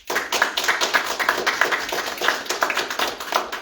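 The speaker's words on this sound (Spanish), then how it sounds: "Un aplauso." A church congregation claps in loose rhythm, individual hand claps clearly audible as a series of sharp, close taps rather than a dense roar.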